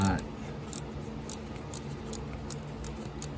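A number 12 six-point deep socket and ratchet turn out a glow plug on a 6.6-liter Chevy/GMC Duramax diesel, a quick series of close, sharp ratchet clicks repeating at an even pace.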